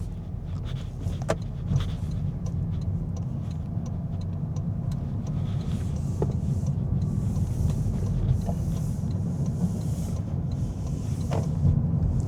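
A 2024 Toyota Corolla 1.8 hybrid rolls along in electric mode, giving a steady low road and tire rumble with faint interior rattles and no engine roar.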